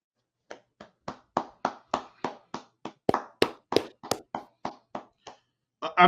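A single pair of hands claps in a steady, close rhythm on an NFL recap show, roughly sixteen crisp claps spaced evenly with clear silence between them, with no talking.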